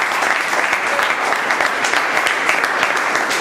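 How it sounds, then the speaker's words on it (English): A steady round of applause from a meeting audience for Nisha, an even wash of many hands clapping at moderate volume without a break. "So a big round of applause for Nisha."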